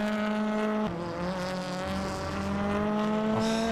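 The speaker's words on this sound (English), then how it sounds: "We're playing rFactor 2 with touring cars on a controller in chase cam" Touring cars racing in rFactor 2, played with a controller from a chase camera, with a steady high engine drone and gear changes, no talk.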